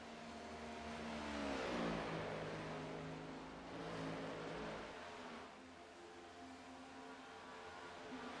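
NASCAR stock cars in the iRacing video game, engines roaring in a continuous drone with one car swelling louder as it passes, then a steadier, slightly quieter engine hum; no speech.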